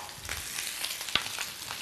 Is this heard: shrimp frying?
yes